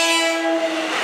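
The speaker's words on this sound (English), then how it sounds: "We're going to be watching train 2021 pass by." A Long Island Rail Road commuter train of M-3 cars sounds a loud, sustained horn chord near Ronkonkoma, the steady blast held for the full moment with rail rumble beneath.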